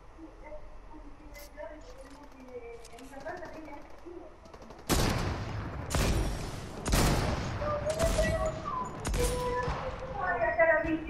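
Gunfire in Fortnite Chapter 3 Season 2 during a duo match, a quiet opening with voices and faint chirps before loud bursts of automatic shots and single cracks break out repeatedly, close and sharp, with talk mixed in.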